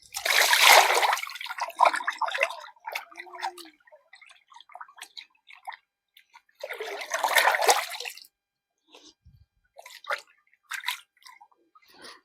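Fish is washed in water for a biryani, with two long bursts of splashing and pouring separated by scattered drips and small splashes, close by.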